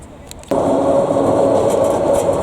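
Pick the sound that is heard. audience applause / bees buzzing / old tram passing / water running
old tram passing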